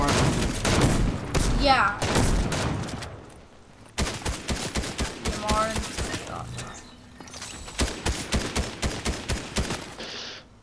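Rapid gunfire bursts from Fortnite squads play, repeated sharp shots in clusters with short gaps, fairly loud and close, while players talk over it.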